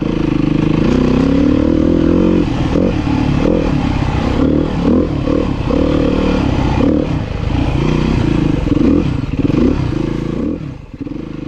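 A Beta 390 dirt bike powers hard through deep mud on an enduro trail, its engine loud and steady with repeated revving surges and clattering, spattering noise throughout.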